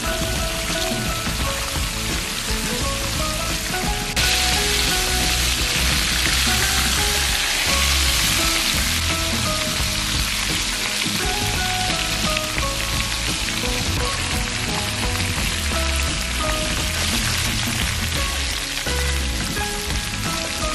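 Marinated milkfish (bandeng) fries in hot oil until browned, giving a constant loud sizzle with crackling spatter. It is close and even throughout, with brief swells that suggest stirring, and no one speaks.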